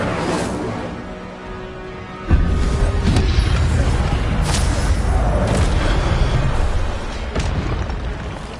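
An Incendio fire spell cast in the Hogwarts Legacy video game bursts in with a sudden loud whoosh, followed by a sustained roaring, crackling blaze that holds steady for several seconds before easing slightly.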